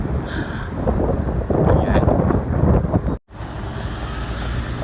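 Strong wind buffets the microphone in rough, rumbling gusts while whipping an umbrella about, briefly cutting out before returning; a voice speaks faintly beneath the noise.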